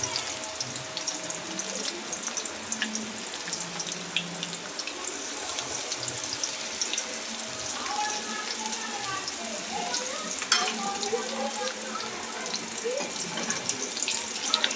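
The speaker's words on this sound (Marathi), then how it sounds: "हे असं सर्व थोडं थोडं तळून घेते" Banana fritters (bhaji) fry in a pan with a steady, close sizzling hiss that carries evenly through the whole stretch, with small crackles and bubbling pops scattered on top.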